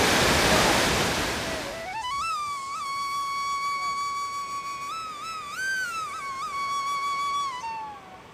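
Rushing water from a waterfall at Sitakunda pours as a loud, steady hiss for the first couple of seconds, then sinks under a long, wavering whistle-like tone that holds for most of the rest.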